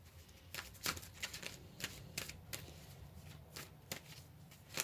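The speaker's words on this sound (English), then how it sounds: "Let's go ahead and pull another card." Tarot cards shuffled by hand during a tarot reading, giving a series of soft, crisp riffling bursts at an irregular rhythm, close and fairly quiet, with no talking.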